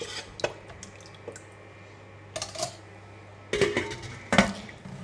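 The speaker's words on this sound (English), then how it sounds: "I'm going to give it a stir a bit just to dissolve the salt." A pot of pork bone broth being stirred, with scattered metallic clinks and scrapes of a utensil against the pot arriving in short bursts over a faint steady background hum.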